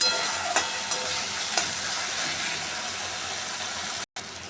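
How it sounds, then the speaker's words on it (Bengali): Ginger, garlic and onion spice paste fries in a pan with a steady, close sizzle and occasional soft stirring scrapes, with no talking. "এই আদা বাটা রসুন বাটা দিয়েও আমি আরও খানিকক্ষণ মশলাটাকে ভেজে নেব"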